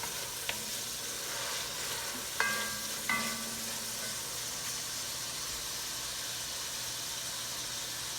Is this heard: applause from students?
no